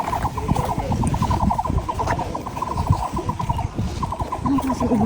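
A bird on a nature trail gives rapid repeated gobbling, clucking calls in quick rhythmic bursts, fairly close, over outdoor background noise with occasional voices.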